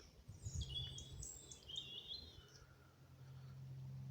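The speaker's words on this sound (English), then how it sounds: "you'll hear there's a bit more bird song, certainly calling from blue tits and great tits, and robins especially" Blue tits, great tits and robins sing and call in Sherwood Forest among old oaks in early March, thin high chirps and short phrases, fairly faint and distant over a low steady outdoor rumble.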